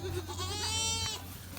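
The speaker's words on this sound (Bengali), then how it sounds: "ছাগলে খাইতেছে যেগুলো জলি পাট আর কি।" A goat bleats once, a near, mid-loud wavering call, while goats feed on freshly harvested jute leaves indoors.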